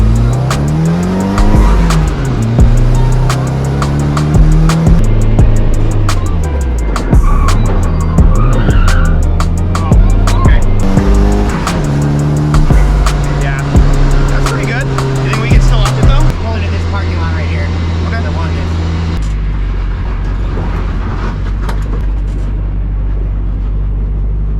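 A big-turbo Nissan S15 drifts on a street, its engine roaring loud and close. Revs swing up and down continuously, the tires squeal and skid throughout, and the sound stays steady and intense for over twenty seconds with faint voices underneath.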